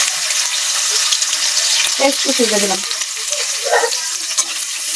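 Onion and garlic crackle and sizzle steadily in hot oil while frying to brown, loud and close, with a few brief stirring clinks and scrapes and no talking.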